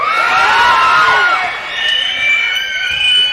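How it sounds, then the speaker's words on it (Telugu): A large crowd of fans at a film hero launch event in Rayalaseema shouts and cheers loudly and continuously, a dense roar of voices with shrill whoops rising and dipping throughout. "మీ అరుపులకి రోమాలు ఎప్పుడు నిక్క ఒడుచుకుంటూ ఉంటాయి"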